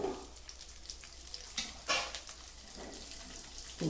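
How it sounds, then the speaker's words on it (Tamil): Onions frying in hot oil for a Kongunadu-style egg curry give a faint, steady sizzle with scattered crackles and pops. "எண்ணெய் ஊற்றியாச்சு, வெங்காயம் போட்டாச்சு."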